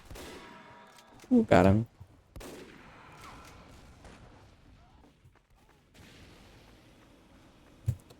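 Gunfire in the video game Team Fortress 2, with a loud burst of shots early on and a sharp single report near the end, while someone talks over the game sounds.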